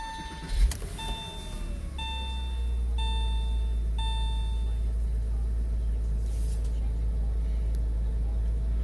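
A 2000 Porsche Boxster engine cranks and starts after a series of steady dashboard warning chimes, then settles into a loud, steady low idle rumble.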